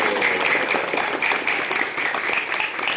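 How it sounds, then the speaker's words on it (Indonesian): Schoolchildren applaud steadily at a school language-month festival, a dense, continuous clatter of many small hands filling the space at close range without a break. "Kalau masih semangat, mana suara tepuk tangannya?"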